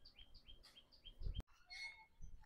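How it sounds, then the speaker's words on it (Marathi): Several birds chirp and call in a forest at evening near Tipeshwar, with repeated short high tweets and trills, a brief sharp knock midway, then more varied calls from different birds at moderate distance. "पक्ष्यांचा आवाज येतोय."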